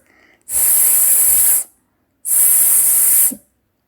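A voice imitates the hissing 's' letter sound for a phonics lesson, producing two long, loud, close sustained hisses separated by a short silence.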